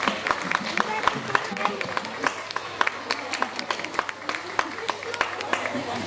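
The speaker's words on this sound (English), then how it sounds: "how about we give him another round of applause as he does so" Scattered audience applause at a tiger show at Dreamworld's Tiger Island in Australia, loose individual claps across the whole stretch over crowd murmur and a presenter's voice.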